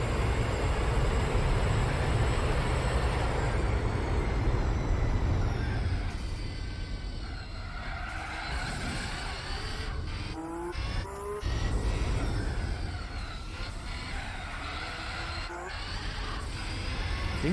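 A Gran Turismo race car drives continuously in a video game championship race, with loud sustained engine drone, gear changes and tire squeal; a voice talks intermittently over it.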